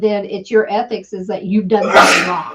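A single sneeze bursts out near the end, right after a stretch of close conversational speech, loud and sharp against the talking.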